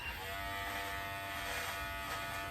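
Electric shaver buzzing steadily against skin near the ear, a close, continuous high whine that stays even throughout.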